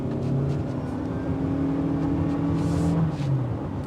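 A 2025 Toyota Camry LE engine pulls at full throttle from inside the cabin, giving a constant loud drone with a whining tone that climbs slowly in pitch as the car gains speed. No voices are heard.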